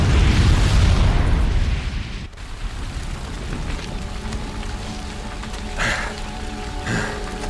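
A bomb explodes in the Horizon Zero Dawn video game, a loud roaring blast that rumbles for about two seconds before falling away to crackling, rain-like debris and faint ambient noise.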